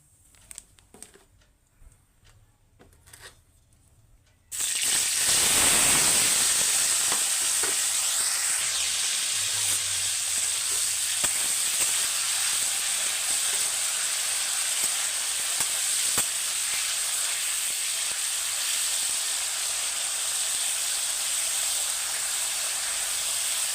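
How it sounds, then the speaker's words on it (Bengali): Paneer cubes hit hot oil seasoned with salt and turmeric, erupting into a loud, sustained hissing sizzle that carries on steadily after a few quiet taps. "প্রথমে আমি পনিরগুলোকে ভেজে নেব তেলের উপর লবণ দিয়ে দিয়ে এলাম"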